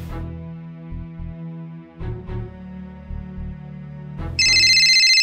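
A mobile phone ringtone plays loudly and close by as a short repeating melody of tones, ending in a bright, sustained high chime.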